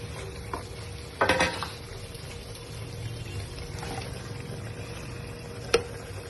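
Chicken fries in hot ghee with a soft, constant sizzle, broken by a few sharp scrapes and clatters as a spoon stirs the pot.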